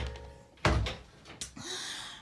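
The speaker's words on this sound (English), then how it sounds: "Doors are closing." A door closes in the Roblox game Bloxburg, a loud thunk followed by a sharper second knock-like hit, then a quieter hiss, with no voices.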